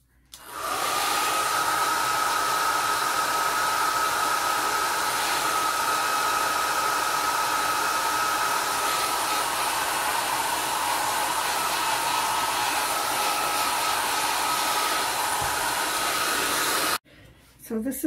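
A handheld hair dryer blows steadily at close range over a watercolor bookmark, a loud even whooshing hiss with a faint whine that starts abruptly, runs for about sixteen seconds and then cuts off.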